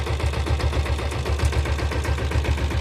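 A vintage 1997 diesel Bullet motorcycle engine idles close by with a loud, steady low thumping rhythm of evenly spaced beats throughout.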